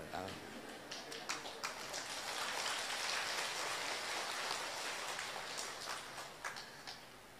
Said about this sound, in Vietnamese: Vỗ tay lớn vậy.